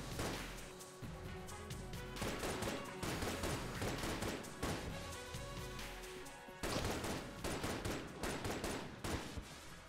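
Rapid bursts of gunfire from the roguelike shooter Enter the Gungeon crackle almost continuously, loud and dense, with dozens of clustered shots and brief gaps before firing resumes.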